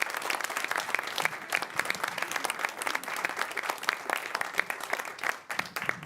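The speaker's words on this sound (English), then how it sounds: "give him a round of applause." Audience applause at a string quartet concert: a full, sustained round of clapping with crisp individual claps over a steady crowd roar, fairly close and lasting about six seconds.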